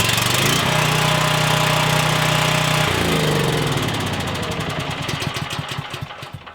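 A portable generator engine cranking and catching on choke, first a steady loud mechanical whir, then firing into a rough, pulsing idle that gradually settles and softens.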